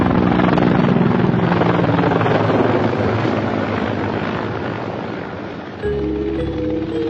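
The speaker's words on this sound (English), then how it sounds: "It performs on the Mi-24 combat helicopters." Loud, steady rotor roar of Mi-24 combat helicopters flying overhead, constant throughout with a slight dip and shift near the end.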